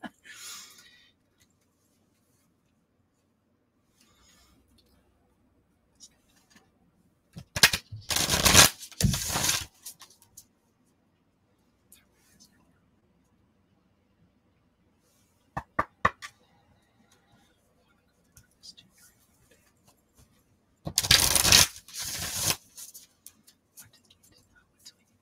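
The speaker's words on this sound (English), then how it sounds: "I'll cross my legs real quick just so I can shuffle on my lap." Oracle cards being shuffled on a lap make two bursts of quick riffling and flicking, with scattered small taps and handling noises in the quiet gaps between them.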